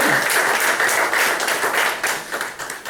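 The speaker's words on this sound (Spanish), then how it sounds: "Den un aplauso al Señor" Church congregation applauding the Lord after a sermon: a steady, fairly loud round of many hands clapping, with individual claps audible and fading slightly at the end.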